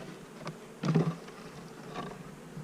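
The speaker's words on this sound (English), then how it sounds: "I see lots of bees, which is a good sign." Honey bees buzzing around a newly set up beehive, a faint droning hum with a few brief louder passes as bees fly close, no voices.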